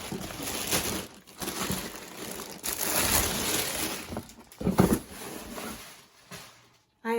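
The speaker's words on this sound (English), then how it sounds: "I apologize for the plastic noise" Plastic sleeves crinkle and crunch close up while vintage crochet pattern books are handled, a continuous rustling with louder bursts and brief pauses.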